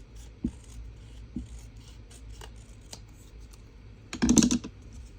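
Scissors snip through a paper journal tag decorated with Distress inks, a short, close burst of crisp cutting near the end after light scattered handling sounds in a quiet room.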